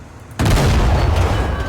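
The 130 mm gun of an SU-100Y tank destroyer in War Thunder fires a single heavy, booming shot that hits suddenly after near silence and rolls on as a loud, sustained rumble.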